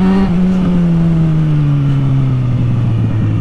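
A Yamaha XJ6 motorcycle engine drones steadily up close while riding, its pitch sliding gradually lower as the bike eases off, loud and continuous with no talk.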